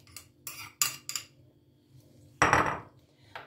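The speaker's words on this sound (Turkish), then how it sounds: "Öncelikle efendim yulafımızı şöyle döküyoruz." Oats being poured into a deep bowl in a kitchen, heard as a few short clattering rattles against the bowl and then a longer, louder rushing pour, close and with no talking.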